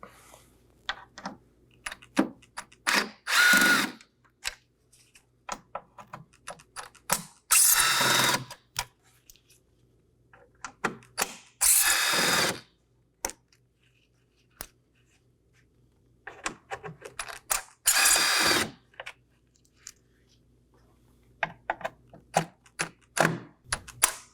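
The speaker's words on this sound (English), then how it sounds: "locate our 6 T15 Torx screws on our grill. We're going to go ahead and remove those now. I'll be using a T15 Torx bit." Power drill with a T15 Torx bit backing out the six grille screws on a Chevrolet Equinox: several separate short, loud whirring bursts, close by, with faint clicks and handling noise between them.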